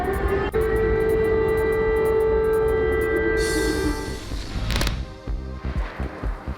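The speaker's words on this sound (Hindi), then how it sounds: "चर्निहिव और इज्यूम में बजा सायरन" Air raid siren in wartime Ukraine, a long steady wailing tone sounding from a distance over outdoor rumble, then fading into traffic and ambient noise.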